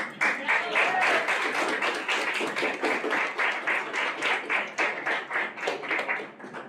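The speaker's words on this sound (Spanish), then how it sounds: "yo pido un aplauso para don Gilberto" A university book fair audience applauds, with dense, steady clapping that holds loud and even for several seconds before easing slightly at the end.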